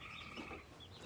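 Backyard chickens cluck very faintly for about a second, a soft, distant murmur of flock sounds.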